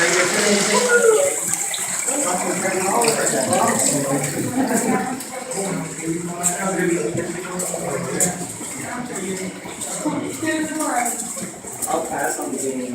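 Water splashes and runs steadily in a fountain inside a cavern, a continuous close wash of sound beneath people talking throughout.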